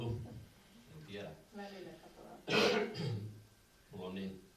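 A person clears their throat and coughs in several rough, separate bursts, close and fairly loud, with quiet pauses between them.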